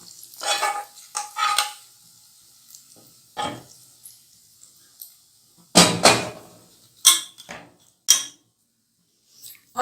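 Hot baghar tempering added to a pot of chana dal bharta over a low flame: short bursts of sizzling and stirring scrapes, with a few metallic clinks of pot and utensil separated by quiet pauses.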